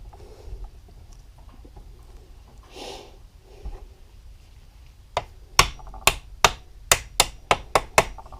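Light taps of a tool on parts during top end assembly of a 2015 Yamaha YZ250FX engine: about nine sharp, close taps in a quick, even rhythm, following a quiet stretch of faint workshop noise.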